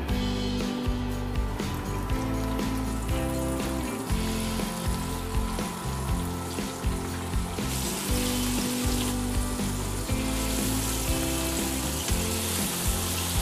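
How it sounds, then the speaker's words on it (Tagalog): Food frying in a pan, a steady loud sizzle and crackle with occasional clinks and stirring, no talk. "Piprito na natin."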